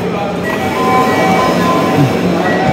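Dhaka metro train at Uttara station, a steady loud rumble of rail cars and platform noise, with voices talking over it throughout.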